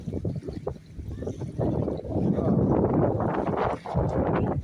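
Steady gusting wind at a beach in Jeddah roars across the microphone, broad and continuous, with faint voices mixed underneath.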